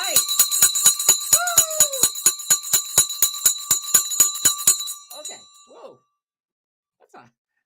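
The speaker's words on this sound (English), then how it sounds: "I was trying to knock the red out of the market with that bell" A stock market closing bell clangs in a rapid, loud, steady series of metallic strikes for about five seconds, then stops with a brief ringing decay, a short voice, and near silence.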